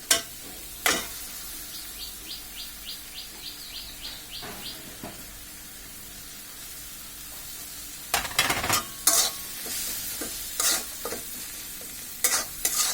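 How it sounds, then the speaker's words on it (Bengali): Mashed potato, garlic and dried fish stirred in a pan, with a brief scrape at the start, a row of quick light scrapes, then louder bursts of stirring and scraping toward the end over a soft steady sizzle. "এটাকে অনবরত নাড়তে হবে, না হলে নিচে দিয়ে পুড়ে যেতে পারে"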